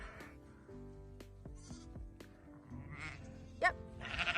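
Sheep and lambs bleat on a Yorkshire farm in a series of quavering calls, some near and some farther off, over quiet outdoor background.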